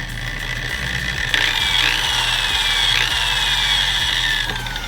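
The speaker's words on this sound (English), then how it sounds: "I'm just letting the drill do the work, just a little bit of pressure and letting it eat through" A power drill bores through thin metal on a Nissan 350Z widebody build, a loud continuous whining drone with a shifting pitch under light pressure, no talking.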